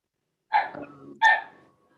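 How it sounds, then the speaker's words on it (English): A dog heard over a Zoom court call gives two sharp barks, about half a second apart, fairly close and clear against otherwise silent background. "I think I'm hearing somebody's dog bark"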